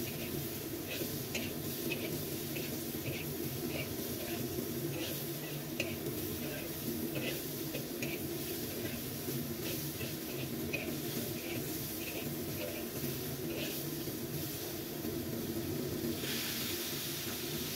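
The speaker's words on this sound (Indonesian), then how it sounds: "kita tambahkan labu yang sudah kita potong-potong tadi. Tumis, aduk hingga sampai semuanya tercampur merata." Chopped pumpkin stir-fries in a pan with a soft, continuous sizzle and hiss, while repeated light scrapes and clinks of stirring recur throughout at a modest, close level.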